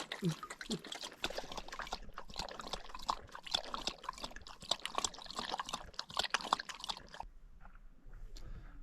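Water is poured from a carried pouch for a dog to drink at a mountain tarn in the Lake District, a faint, uneven trickle and splash lasting several seconds, with quiet outdoor ambience.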